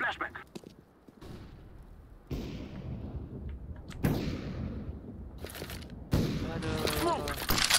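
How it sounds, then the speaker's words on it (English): A flashbang goes off amid sharp in-game bursts and gunfire during a CS:GO match, with several loud blasts spaced a couple of seconds apart and voices talking over the action. "Throwing a flashbang."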